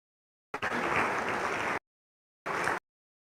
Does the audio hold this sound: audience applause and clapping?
yes